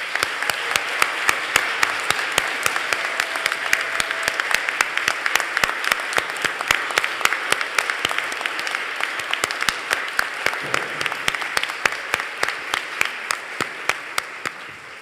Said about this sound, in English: let's give all of our students, scholars, a resounding